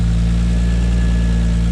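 A turbocharged 2JZ-GTE engine idles in a Nissan 180SX with a ZF five-speed conversion, a steady, loud, low rumble with even pulsing and a slight exhaust leak, running alone without voices.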